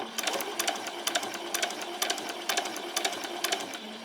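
A sewing machine stitches along the leg of a pair of summer shorts, its fast needle ticking in a steady rapid rhythm at close range, fairly quiet and without speech.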